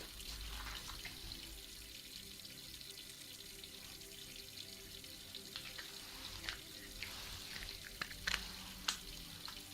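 Running tap water during a hair shampoo in a hairdresser's sink gives a soft, quiet, steady flow. Scattered light splashes and drips become more frequent toward the end, and nobody speaks.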